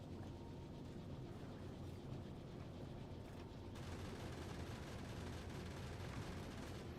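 Rapid, continuous crackle of turrets firing bullets in Factorio, a dense rattling barrage that keeps a steady pace and grows slightly brighter partway through, with no talking.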